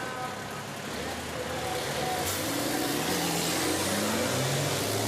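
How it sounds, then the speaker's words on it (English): Racing trucks at the 2021 FIA European Truck Racing Championship at Most pull away behind the pace truck, their engines and turbochargers making a loud, continuous roar that swells steadily as the field sets off. "multiple thousands of horsepower and turbochargers whistle into life"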